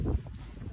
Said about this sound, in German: Und jetzt kommt wieder der fucking Wind.